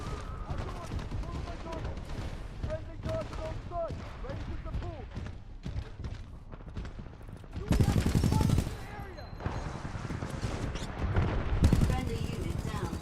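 Video game gunfire, a mix of rapid bursts and heavier volleys, crackles under recurring speech, with two loud, dense bursts of shooting standing out near the middle and end.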